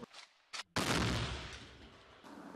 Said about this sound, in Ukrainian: Поки працюємо, чуємо потужний вибух із боку сусідньої Мар'їнки.